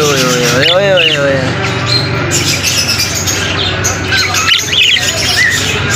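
Pet parrots, some with damaged beaks, squawk and warble in loud, wavering calls that rise and fall, close by over a busy background.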